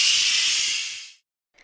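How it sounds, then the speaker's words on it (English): Hot steam venting from an Instant Pot quick release during wild mushroom soup cooking: a loud, close, steady hiss lasting about a second that cuts off abruptly, then a brief faint puff after silence. "A lot of hot steam is going to come out, so stand back."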